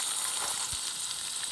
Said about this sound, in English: It's spitting like a bloody frying pan.